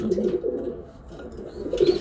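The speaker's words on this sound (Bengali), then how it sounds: "এই যে দেখেন কবুতরটা আমি একটু দেখাই দিই" A racing pigeon coos softly and repeatedly at close range, with low, throaty murmurs and no voices.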